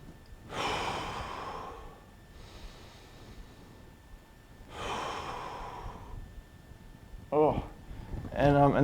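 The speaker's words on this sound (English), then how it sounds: "reach over your head and take some deep breaths" Two slow, deep breaths are taken during an overhead reach stretch for first rib mobilisation with a broomstick, each a long, airy inhale-exhale heard close up, followed by brief vocal sounds at the end.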